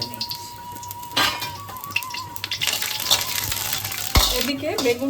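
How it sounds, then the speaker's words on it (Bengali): Eggplant frying in oil left over from bitter gourd: a busy, nearby sizzle with stirring scrapes and one sharp metallic clatter near the end. "ওই উচ্ছে ভাজা তেলে আমি বেগুনটাকে ভেজে নিচ্ছি"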